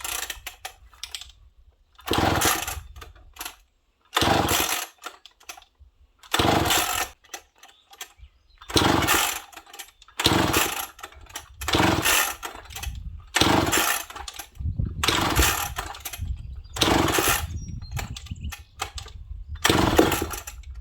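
Repeated pull-starting of a McCulloch 1-71 chainsaw engine with the kill switch on and fuel added: about ten loud, rough bursts of roughly a second each, separated by short gaps, close by, with no voices.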